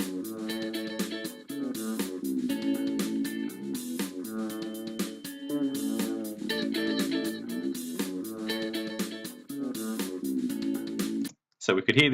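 Rhythmic synthesized music loop with volume automation applied, the repeating pattern swelling and receding in loudness over several bars before cutting off near the end.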